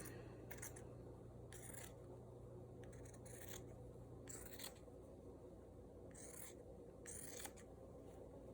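Scissors cutting through T-shirt fabric to make a no-sew face mask, a series of short, crisp snipping bursts in an irregular rhythm, close and quiet against a low steady background hum.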